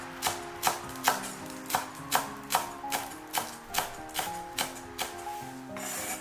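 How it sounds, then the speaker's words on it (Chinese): Scallions being chopped with a knife on a board: about a dozen steady, evenly spaced chops, close and clear, in a quiet home kitchen. "咱们再来切点葱花"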